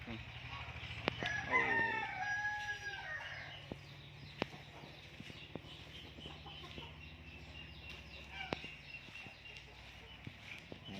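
A rooster crows once on a chicken-raising farm, a clear, fairly close call early on. It fades into a quieter yard hum with scattered faint clucks and ticks.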